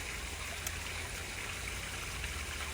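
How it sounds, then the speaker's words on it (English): Water flows steadily in an outdoor pool swollen by several days of rain, a constant broadband rushing wash with a low rumble, unbroken and fairly loud. "You actually may hear the water in the background."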